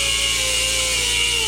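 A power tool cuts through bolts on a C6 Corvette during a full disassembly for a supercharger install. It makes a loud, continuous, steady grinding whine close up, with no voices.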